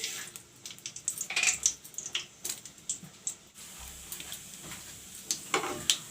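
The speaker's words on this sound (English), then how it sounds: "I have put in some mustard oil. This is jeera. I will put in the jeera now." Cumin seeds (jeera) crackling and sizzling in hot mustard oil, a steady close-up frying hiss with scattered sharp pops and spits, fluctuating in intensity and heard alone with no talk.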